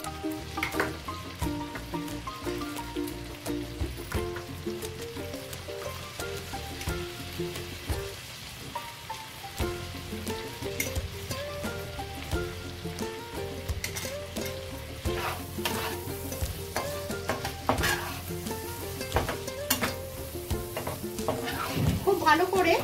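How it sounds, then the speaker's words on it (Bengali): Salt, turmeric, Kashmiri red chili powder and cumin powder are stirred into a sizzling pan, with a spoon scraping and clinking repeatedly over a steady frying crackle, up close. "এখন আমি স্বাদ অনুসারে নুন, হলুদ, কাশ্মীরি লাল লঙ্কার গুঁড়ো আর জিরে গুঁড়ো দিয়ে খুব ভালো করে মিশিয়ে নেব"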